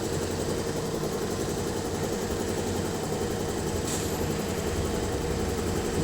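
Motorcycle engine idling after an ECU remap with slightly retarded ignition timing, a steady close-up mechanical rumble with even low pulsing and a brief higher click partway through.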